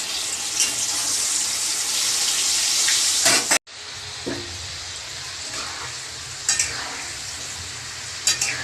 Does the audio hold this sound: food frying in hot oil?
yes